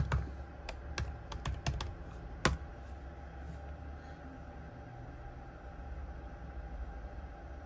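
Keys tapped on an Apple MacBook Pro keyboard while entering a network password, a quick cluster of sharp clicks near the start, then a lone keystroke, fading into a steady low hum with no talking.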